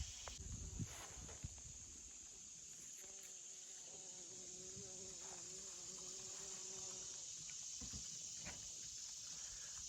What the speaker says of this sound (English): A lot of bees are still pollinating these things. You hear them?